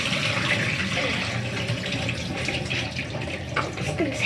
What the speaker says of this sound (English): you tilt the pumpkin over the sink, and it should let the water run out